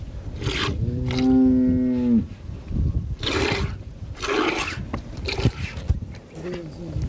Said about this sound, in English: This is the sound of a milking cow.